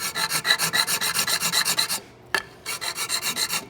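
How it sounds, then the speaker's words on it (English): A hand file rasps across a wooden dovetail corner, about fifteen quick, even back-and-forth strokes, close and clear, with a short pause and a single knock before the strokes resume. "I keep turning the file just as I work into the corner."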